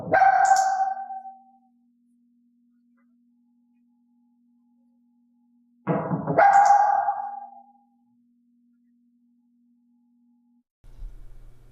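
A dog barks during training at home, giving two loud, close single barks several seconds apart, with a faint steady tone between them and a soft thump at the end.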